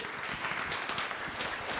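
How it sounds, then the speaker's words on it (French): An audience applauds a singer at a praise concert in a church in Saint-Denis, a dense, steady wash of many hands clapping at once, fairly close and continuous throughout. "On l'applaudit encore une fois, Tatou"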